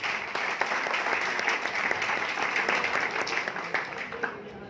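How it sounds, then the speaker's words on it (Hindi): Continuous crowd applause at a business motivational gathering, dense overlapping clapping at steady volume, easing slightly toward the end, with some voices mixed in. "जोरदार तालियां साथियों अपने लिए।"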